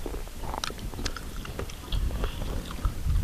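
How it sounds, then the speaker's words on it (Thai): Someone chews straw-baked chicken feet outdoors in the forest, with irregular close crunching and biting bursts over a low rumble of wind. "ฟังเสียงเคี้ยวครับกรบกรบเลย"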